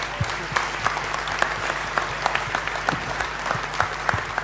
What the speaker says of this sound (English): we want to give them a warm round of applause.